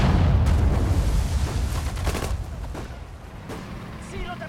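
Sudden Strike 4 multiplayer battle: rapid gunfire and heavy artillery booms thud and crack in a dense, rolling barrage, with a soldier's voice shouting in German over the combat.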